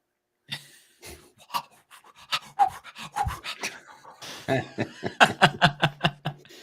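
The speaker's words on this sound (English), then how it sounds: "Stop heavy breathing" Rapid, rhythmic panting breaths grow faster and louder toward the end, close to the microphone and broken by short pauses.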